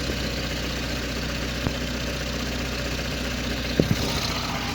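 A car engine idles steadily at close range during an injector and carbon-deposit cleaning job, giving a continuous low rumble broken by a few faint knocks and clicks, with no talking.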